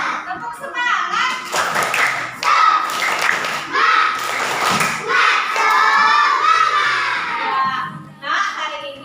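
A class of children performs a rhythmic clapping chant in a primary classroom, shouting words in unison between bursts of clapping and thumps, with a teacher's voice leading, lively and close.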